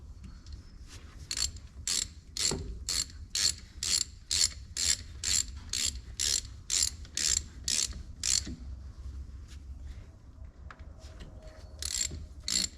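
A ratchet clicks in a steady, rapid run of about sixteen sharp, close clicks while tightening drain plugs on a Kubota SVL track loader final drive, then a pause and a few more clicks.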